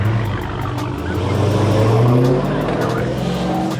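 A 2019 Dodge Charger Hellcat engine roars and rises in pitch as it accelerates on a test pull, loud and close, with tire noise under the swelling revs.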